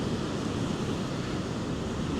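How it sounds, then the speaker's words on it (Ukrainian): Strong surf pounds a Florida beach at Saint Augustine under red-flag conditions, a steady, dense roar of crashing waves with wind buffeting the microphone throughout, no voices. "Ось такі сильні хвилі."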